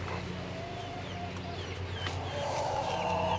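Houdan mix hens cluck softly and intermittently over a steady low hum, with small chirpy calls that grow a bit busier toward the end.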